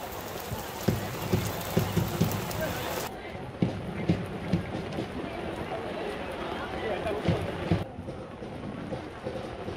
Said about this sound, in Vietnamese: Mọi người vẫn đang đá dưới mưa,